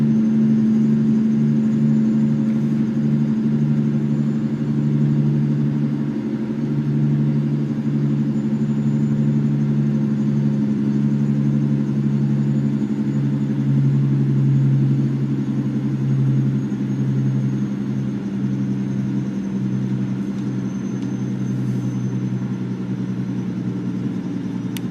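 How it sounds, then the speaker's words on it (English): Truck engine brake droning steadily for the whole stretch, a loud low rumbling growl with pulsing harmonics, close and continuous, with no talk over it. "Ah well, engine brake time."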